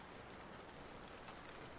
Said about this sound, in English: Can't rain forever.